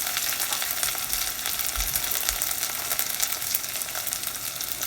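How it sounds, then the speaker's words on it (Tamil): Sliced onions, curry leaves and green chillies sizzle in hot oil in a pan for a soya meat curry, a steady loud frying hiss with a few soft stirring thumps and no talking. "வட்டின வெங்காயத்தை போடுங்க. கருவேப்பிலை,"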